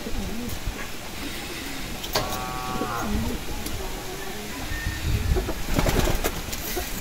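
Racing pigeons give low, soft coos amid busy outdoor background noise and scattered knocks.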